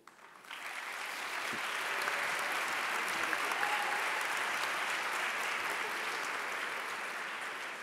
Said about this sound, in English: for the audience to applaud all staff once the last name is announced